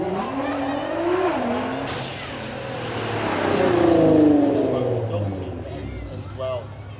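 Supercar with around 660 horsepower running hard on a demo track, engine note rising and falling through revs and gear changes, with a commentator talking over it throughout.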